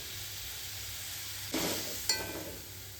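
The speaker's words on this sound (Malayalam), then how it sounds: "ചാറ് തിളച്ചിട്ടുണ്ട്." Steady sizzling and bubbling of curry broth boiling in a hot pan, with a brief stirring scrape partway through and another short clatter near the end.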